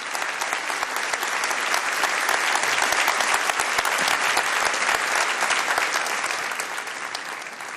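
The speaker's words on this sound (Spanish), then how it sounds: "Para todos ellos quiero pedirles un aplauso," Audience at an official project presentation in Ecuador applauds, a loud, dense and steady burst of clapping that softens slightly toward the end.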